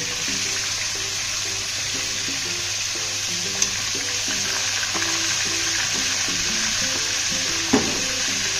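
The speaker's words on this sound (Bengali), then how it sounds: "কাঁকড়াগুলো একটু ভেজে নেবো" Crabs seasoned with turmeric and salt fry in hot oil, giving a steady close sizzle with intermittent stirring scrapes and a couple of sharp clinks, no voices.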